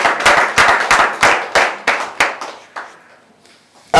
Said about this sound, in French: Acclamez pour l'Éternel.